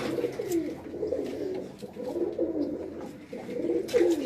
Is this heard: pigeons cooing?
yes